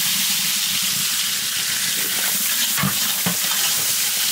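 Onions hitting hot oil with whole cumin and whole garam masala in a village kitchen, giving a steady loud sizzle with a couple of sharper spatters and stirring scrapes, no talking.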